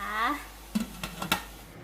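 A quick metallic clatter of a lid settling onto a steaming pot of purple sweet potato cupcakes, a few short clinks after a brief spoken word.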